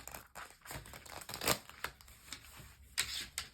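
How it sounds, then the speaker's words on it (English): A deck of cards is shuffled in quick riffling bursts, crisp and close, with soft papery flicks between the louder rustles. "Sometimes I just shuffle backwards just so I can make sure my cards don't bend"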